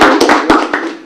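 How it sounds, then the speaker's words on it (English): Short burst of a few hands clapping at a council extraordinary meeting, sparse and close, a handful of separate claps over about a second. "do you think we deserve to give the round of applause to our Director"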